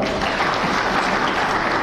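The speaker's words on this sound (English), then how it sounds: "Let's give them a clap." Sustained audience applause at a political rally in Kakamega, Kenya, a dense, steady wash of clapping from a large crowd that holds at an even level throughout, with no speech over it.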